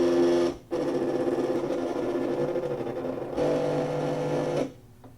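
An electronic cutting machine cuts paper with a steady mechanical whir and buzz, pausing briefly near the start, then changing pitch midway before stopping.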